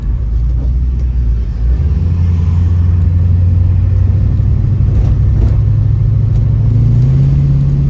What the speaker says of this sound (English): I'm going over these bumps on purpose. I want you guys to really hear how quiet this car is.